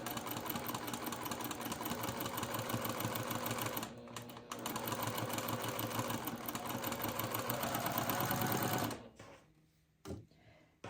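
A sewing machine chain-pieces a curved concave and convex quilt block seam, running as a steady close whirring hum with dense needle clatter for about nine seconds before stopping, followed by a brief quiet mechanical clunk.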